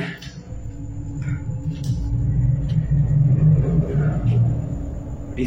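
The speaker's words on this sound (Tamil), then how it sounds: "அடிக்கடி இங்க காரு, பைக்கு, பஸ்ன்னு போயிட்டு வரதால" Steady low rumble of roadside traffic, cars, motorbikes and buses passing nearby in a continuous drone with a few fainter high hisses above it.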